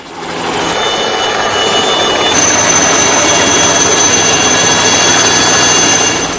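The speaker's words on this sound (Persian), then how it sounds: "سه هلیکوپتر لاما با آسمان بلند می شوند." Lama helicopters fly over a tower construction site, a steady whining engine and rotor roar that rises in the first half-second and then holds loud and even, with a high tonal whine joining midway.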